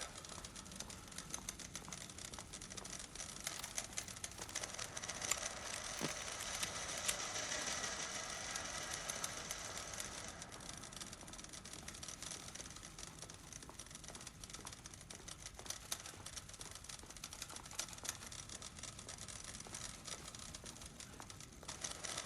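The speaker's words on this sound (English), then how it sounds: "The typing is like super irregular now." Irregular typewriter-like clacking in Alan Wake II's Lake House, a faint, uneven patter of keystrokes running continuously under a dense, hissing ambient background.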